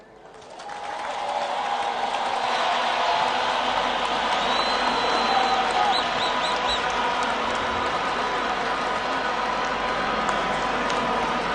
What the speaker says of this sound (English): A big round of applause for the address by the President.